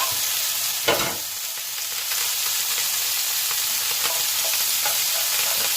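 Onion sautéing quickly in a pan after fish has been seared, a dense, steady sizzle with a few soft stirring knocks, close and with no talk.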